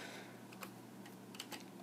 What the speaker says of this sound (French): c'est un clavier qui est en AZERTY bien sûr